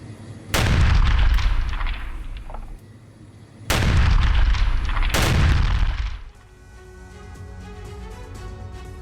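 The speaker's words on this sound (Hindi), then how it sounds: "कुर्स्क के सबसे करीब सूमी इलाके से यूक्रेन की आर्टिलरी गोलाबारी कर रही है।" Ukrainian artillery shelling from the Sumi region near Kursk: three loud, deep booms with long rolling echoes, the second and third close together, then a quieter rumbling tail.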